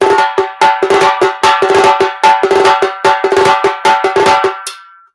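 A tassa drum played in Nagara style, with rapid, loud, ringing strokes driving in a steady, dense rhythm, bright and metallic in tone, close up and alone, ending in a short roll that fades out.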